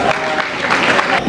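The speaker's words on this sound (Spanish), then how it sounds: "Un fuerte aplauso para ellos." A brief burst of audience applause at a wine-tasting event during a grape harvest festival in Frontera, El Hierro, with steady clapping from a seated crowd.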